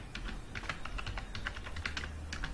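Steady typing on a computer keyboard during HTML coding, a rapid run of close, crisp key clicks with no voices over a low background hum.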